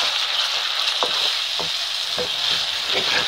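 Tomato paste made from peeled tomatoes sizzles and fries steadily in a pan, with a few soft stirring clinks and scrapes breaking through the constant crackle; nobody speaks.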